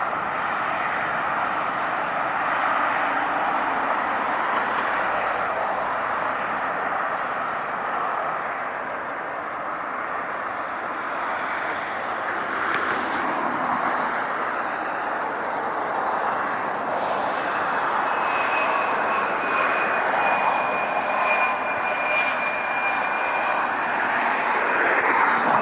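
Heavy jet airliner landing at LAX, a steady loud roar of engines that swells slightly with a rising whine toward the end, with no voices.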